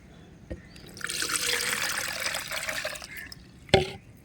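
Liquid shallot fertilizer pours through a filter in a steady stream for a few seconds, splashing softly, framed by a couple of brief clunks before and after.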